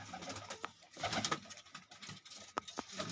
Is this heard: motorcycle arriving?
no